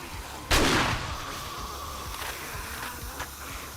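Gunfire in the 7 Days to Die game during a night defence, with one loud sharp blast followed by a few fainter shots over a steady background.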